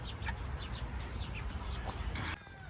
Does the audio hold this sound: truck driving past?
no